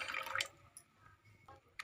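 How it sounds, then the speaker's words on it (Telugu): Water poured into a pot of tomato pulp for rasam on a gas stove, a brief splashing gush followed by quieter trickles and a final small splash, fairly close. "మనం కొన్ని వాటర్ కూడా పోసుకోవాలి తగినంత"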